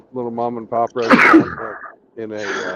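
A single sharp sneeze bursts out mid-conversation, close and loud, cutting between spoken phrases from someone talking in a car.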